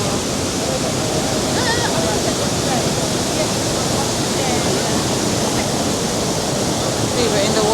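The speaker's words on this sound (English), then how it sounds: "This is YSFalls, Jamaica. The water is coming from all the way up there." YS Falls in St Elizabeth, Jamaica, with fast, rough water pouring over aligned stones, gives a steady, full roar of falling water that holds unbroken throughout, near and loud.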